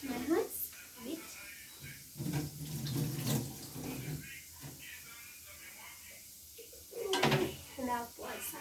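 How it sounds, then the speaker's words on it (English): Hands are rinsed under a running kitchen tap, a soft steady water flow with small splashes, while a person talks over it. "Wash my hands a bit."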